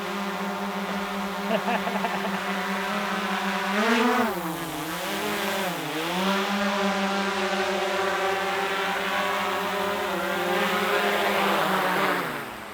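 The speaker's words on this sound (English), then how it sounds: "we're gonna see if this thing actually still flies" A small camera drone with a gimbal flies close by on an outdoor trail, its steady multi-toned rotor whine holding for over twelve seconds and dipping in pitch twice as it manoeuvres before touching down.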